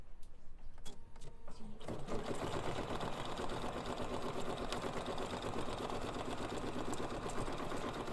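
A Bernina sewing machine fitted with a couching foot starts after a few quiet clicks. It then runs a steady, close, fast needle chatter that continues evenly to the end.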